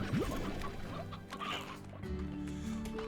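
Chickens clucking in the video game Slime Rancher, faint scattered clucks and chirps over a low steady game background.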